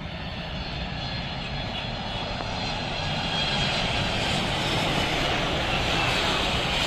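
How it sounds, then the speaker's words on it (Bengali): YTO Airlines cargo plane approaching to land in Dhaka, its engines a steady, broad roar that swells slightly louder as it nears, heard alone without talk. "আপনারা দেখতে পাচ্ছেন এগিয়ে আসছে খুব চমৎকার কালারে ওয়াইটিও এয়ারলাইন্সের এই কার্গো"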